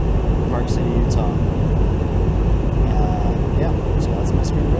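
A loud, steady roar of airplane cabin noise fills an aircraft in flight on the way to Park City, Utah, broadband and unbroken throughout, with a few faint higher clicks on top.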